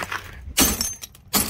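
Something being smashed hard and shattering as kids break things for fun, with two loud breaking crashes about three-quarters of a second apart, close and sharp, with brief crackling debris in between.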